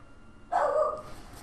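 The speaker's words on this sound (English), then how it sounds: "the dogs just like to bark" Dogs in the video game Shantae: Half-Genie Hero give a single short bark, sharp and close, standing out clearly against a quiet background.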